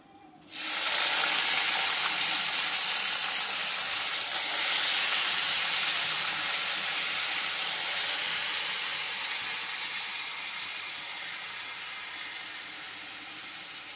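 Potatoes, carrots and long beans hit hot oil seasoned with black cumin seeds in a pan, setting off a sudden loud, close sizzle that hisses on steadily and slowly fades.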